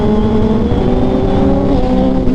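A Kawasaki ZX6R sport motorcycle on a big bike ride in Pampanga, its engine revving loudly and close during a flyby with a strong, steady high-pitched drone throughout.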